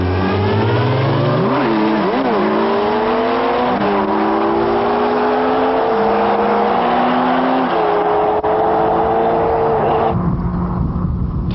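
A Kawasaki ZX12R and a 1300 cc Suzuki Hayabusa on a top speed run: loud, continuous engine howl rising in pitch through the gears as the sport bikes accelerate toward and past the listener, with brief shifts and a fade near the end.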